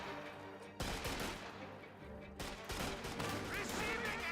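Volksgrenadiers shooting rifles from building windows in Company of Heroes 2, dense bursts of gunfire that cut in sharply, pause, then resume as a sustained volley.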